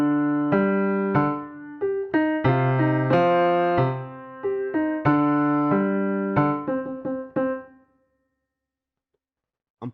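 Piano chords from a stage piano VST in a beat-making session, a sequence of sustained, rhythmic chord stabs with clear tones that play for about eight seconds and then stop, leaving silence.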